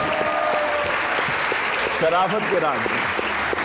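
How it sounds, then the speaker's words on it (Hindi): A studio audience at a comedy show claps steadily in a dense, close burst of applause while a man sings a line over it. "ताली होनी चाहिए समाज में, बजती रहनी चाहिए।"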